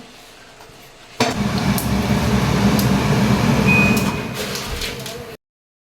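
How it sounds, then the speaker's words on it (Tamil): A kitchen blender grinding cooked dal with tomato and chilli, starting abruptly into a loud, steady whirring roar close by that runs several seconds before cutting off. "நம்ம வந்து இது பிளெண்டர் போட்டுக்கலாம்"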